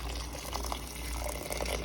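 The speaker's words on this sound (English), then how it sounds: "I have poured in some hot water," Hot water pours steadily into a curry pan with coconut milk, a continuous close gushing wash with no talking.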